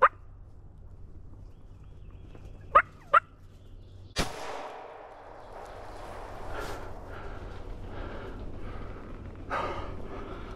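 A wild turkey jake at a field edge lets out a couple of short, sharp gobbles, followed by a louder burst and then softer rustling and breathing close by in an otherwise quiet outdoor setting.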